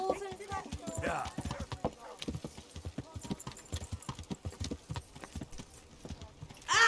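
Horse hooves clip-clop in a rapid, uneven rhythm on a town street in the medieval video game Kingdom Come: Deliverance, close and prominent, with faint voices in the background.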